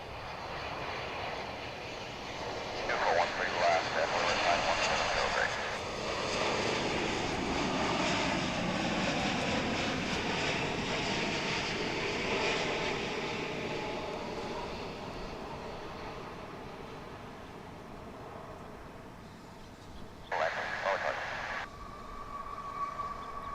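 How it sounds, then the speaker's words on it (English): A Japan Airlines Boeing 787-9 inbound from Narita touches down at DFW International Airport, its jet engine roar swelling and then easing into a long, steady rumble with a brief louder burst near the end. "Touching down after 11 hours and 6 minutes in the air"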